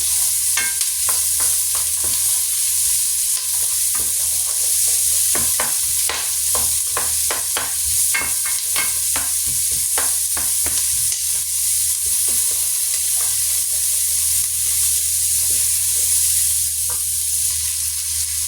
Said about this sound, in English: Now I'm going to put my onions inside. Just stir it around.